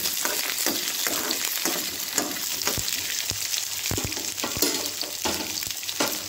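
Small onions for kara chutney sauté in a pan with a steady close sizzle, broken by repeated light clicks and scrapes of a stirring spoon.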